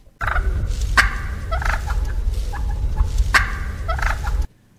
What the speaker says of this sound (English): Turkeys will also produce short purring sounds